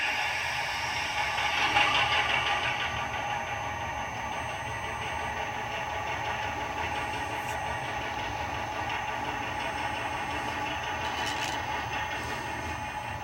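Steady low mechanical hum and faint rattling from a model train locomotive with a TCS WOW sound decoder, running continuously and quietly with no talking.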